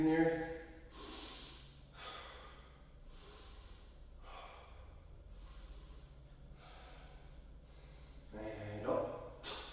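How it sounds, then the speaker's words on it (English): Deep, slow breaths during a squat mobility exercise, about five quiet inhale-exhale cycles at a steady rhythm, close and soft, with a louder breath near the end. "Deep breathing here."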